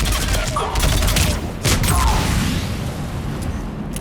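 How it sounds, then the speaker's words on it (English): Mortar fire in the video game Mass Effect 3 sounds as a rolling fusillade of booms and blasts, with loud thumps near 0.5 and 1.7 seconds over continuous battle rumble and a faint voice. "Commander, we're getting a lot of mortar fire."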